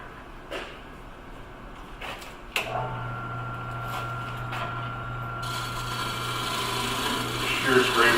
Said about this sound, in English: Shear scrape up in here.